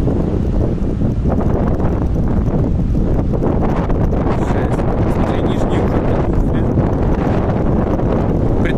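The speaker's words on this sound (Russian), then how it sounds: "Тут на улице сдувает все, вон деревья шевелятся, ветер сильный" Strong wind roars and buffets the microphone continuously, a dense steady rush with gusty rumbling throughout.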